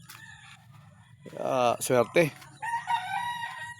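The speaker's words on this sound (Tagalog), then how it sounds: "Ito na po ating mga alagang manok rin." A rooster crows once nearby among pet chickens, a single loud cock-a-doodle-doo in the middle, with a short spoken word and quieter clucking around it.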